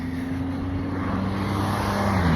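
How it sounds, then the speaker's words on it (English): A passing car on a road, a steady engine drone that grows slightly louder and nearer throughout, with no voices. "Let this car pass."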